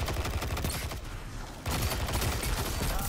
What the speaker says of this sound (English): I kind of just don't stop shooting with this gun.